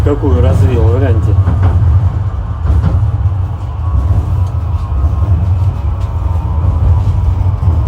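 A Moscow tram rolling along its rails, a loud steady low rumble throughout with faint clicks, while a voice speaks briefly near the start.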